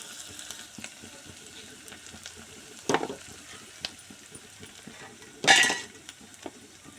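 Ginger tossed into a hot frying pan while cooking khichdi, giving a steady low sizzle with two brief louder bursts as pieces hit the oil and get stirred, no talking.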